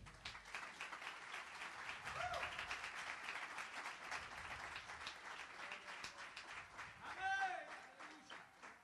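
A church congregation claps along in a steady, continuous wash of many hands, sustained and fairly even throughout. A preacher's voice and the crowd's voices are heard over it.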